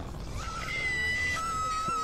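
A woman screams in the Lord of the Rings: The Third Age video game, a thin, sustained high-pitched cry over a rumbling game background, moderately loud and unbroken by talk.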